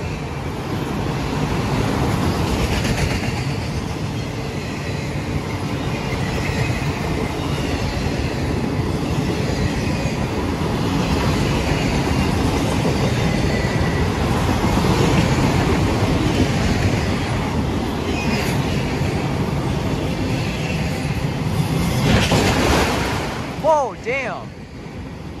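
CSX freight train M205 rumbles steadily past on the rails at Depew Amtrak station in the evening, a loud, sustained roar with clattering wheels that fades slightly near the end.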